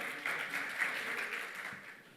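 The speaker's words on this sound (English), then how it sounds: "please welcome Mahua Chakravarty with a huge round of applause" Applause from a conference audience in Dubai welcoming a speaker onto the stage, a steady wash of clapping that swells briefly and then tapers off over about two seconds.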